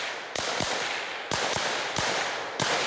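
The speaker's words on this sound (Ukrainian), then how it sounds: "Замість ранкової кави бойові стрільби так волинські тероборонівці починають свій день" Sharp gunshots crack out one after another in irregular bursts at live-fire shooting practice, each followed by a long decaying echo.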